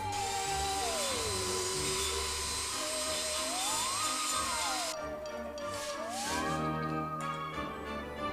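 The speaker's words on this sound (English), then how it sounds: "I had to mill it to make room for the screw." Metal being milled to clear space for a screw near a welding bead, a steady high-pitched machining whine with the tone rising and falling as the cutter loads and unloads, continuous and fairly loud.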